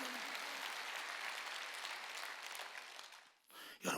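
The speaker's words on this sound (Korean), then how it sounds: "박수야." A congregation at a Wednesday church worship service breaks into sustained, moderately loud applause. It holds for about three seconds, then fades, and a brief noisy thump follows at the end.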